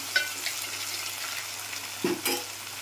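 Curry leaves and coriander dropped into hot oil for a Malvani chicken rassa, giving a steady close sizzle with a few sharp crackling bursts near the start and again around two seconds in, with no talking.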